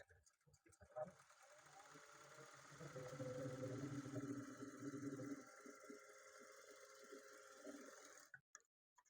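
A sewing machine stitches along the edge of blouse fabric with a quiet, steady mechanical whir lasting a few seconds, while a person talks softly nearby.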